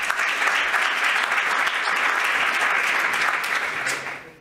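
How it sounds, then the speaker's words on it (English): Dense, sustained applause from a conference audience at an agriculture expert panel, many hands clapping steadily at close range before fading out at the end, with no talk over it. "An applause."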